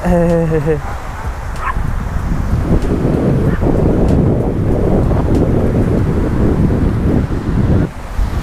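Wind and surf on Bang Saen beach, a steady broadband roar of gusting wind and breaking waves, loud and close throughout, with a dog briefly barking and faint voices near the start.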